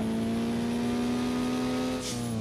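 A Volkswagen Saveiro Cross engine idles and revs in a steady, loud hum that rises slightly, then drops at the end, heard up close without talk.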